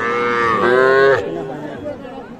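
Young bull calves about four months old bawl loudly in a drawn-out, wavering moo, with faint crowd chatter behind it at a busy outdoor livestock market, Aftabganj Haat.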